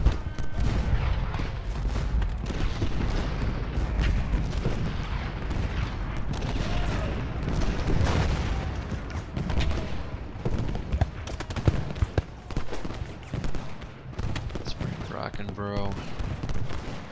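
Cannon and artillery fire in Ultimate General Gettysburg, a Confederate assault battle: dense, continuous booms and gunfire rumble throughout, with sharper blasts near the end and a voice speaking over the din.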